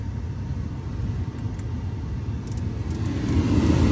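A newly replaced blower motor in a 2012 Audi Q5 runs steadily, a constant broadband whoosh of airflow that swells slightly toward the end, close up with no talk.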